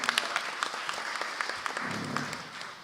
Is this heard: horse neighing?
no